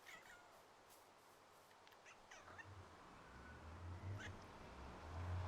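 A cat makes a few short, faint chirping meows against a quiet indoor background, with a low rumble building toward the end.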